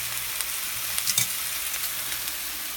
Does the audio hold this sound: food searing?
yes